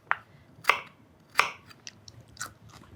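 A knife cuts a thickish piece of food on a board in a home kitchen, giving a few sharp separate chops and crunches with gaps between them, close and alone.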